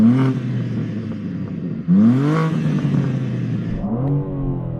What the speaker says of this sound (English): let me just go stationary